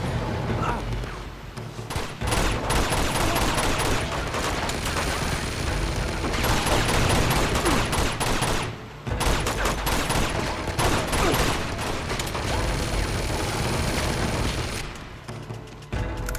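Heavy mounted turret fire in Uncharted 2: Among Thieves, set at a monastery, roars in long sustained bursts with booming impacts, broken by a few brief pauses, loud and close throughout.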